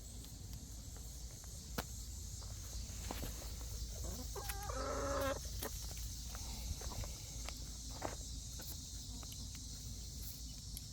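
Several chickens cluck softly and scratch about on the ground, with scattered clucks, light footsteps and rustling at close to moderate distance and a brief louder flurry of clucking midway.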